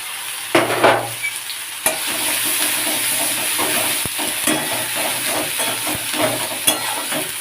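Garlic and onion paste frying in very hot oil while being stirred: a loud, close, continuous sizzle with rhythmic scraping strokes and a sharp burst near the start as the paste hits the pan, no voices.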